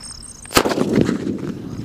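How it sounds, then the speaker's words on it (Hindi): A Munna Deluxe sutli firecracker goes off during outdoor Diwali cracker testing: a single sharp, loud bang, followed by a lingering rumbling tail, with faint high chirps heard before the blast. "चुमन से अपडेट करते हमारे मुन्ना डीलेक्स सूतली का और देखते हैं ये कैसा चलता है।"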